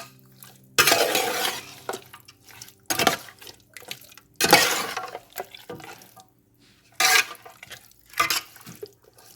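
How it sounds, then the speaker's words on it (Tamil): Chicken is mixed with biryani masala in a bowl for Hyderabadi chicken dum biryani. Several separate bursts of wet squelching and scraping come close and fairly loud, with short quiet gaps between them and no talking. "இப்போ நம்ம எல்லாத்தையும் மிக்ஸ் பண்ணிக்கலாம்."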